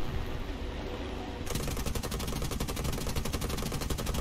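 Aircraft guns in War Thunder fire a sustained rapid burst at ground targets, a dense mechanical rattle that starts after a roar of engine noise and continues steady and loud.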